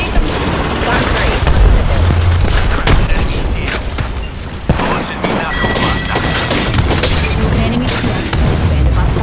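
Grenade blasts and rapid gunfire from an Apex Legends match crackle dense and loud throughout, heavy booms and bursts of automatic shots layered over one another without pause.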